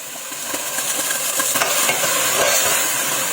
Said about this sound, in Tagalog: sinimulan ko na magpainit ng mantika at ginisa. Sinabay ko na ang bawang at sibuyas.